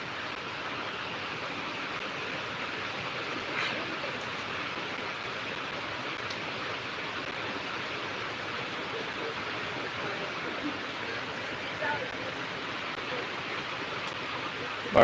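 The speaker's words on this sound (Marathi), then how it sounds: "मस्त पाऊस आलाय" Heavy rain falls on a farm, a steady, even roar of downpour that continues unbroken for about fifteen seconds with no clear voices.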